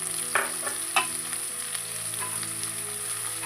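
Chickpeas and spice tempering fry in a pot with a steady close sizzle, broken by a few louder crackles and stirring clatters near the start.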